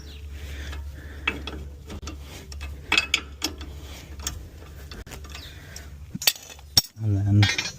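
Wrench working a 17 mm bolt on a car's rear suspension, with scattered metallic clicks and clanks over a low hum, ending in a louder rattle.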